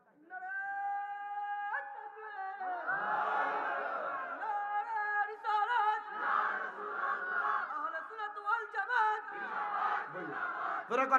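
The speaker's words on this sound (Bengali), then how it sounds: "ডাইন হাত তোলো সবাই, একটা জোরে তাকবীর দেন।" A crowd at a Bengali Islamic waz sermon loudly shouts the takbir, Allahu Akbar. A single leading voice opens the call, then many voices swell into a sustained, rhythmic roaring chant.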